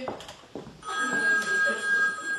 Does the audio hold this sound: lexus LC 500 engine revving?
no